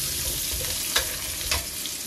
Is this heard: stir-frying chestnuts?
yes